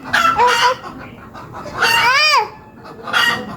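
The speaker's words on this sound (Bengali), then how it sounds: "মুরগিকে ডাকতেছি দেখেন" Three loud bursts of chicken calls close by, rising and falling clucks with a drawn-out crowing-like cry in the middle, separated by brief pauses.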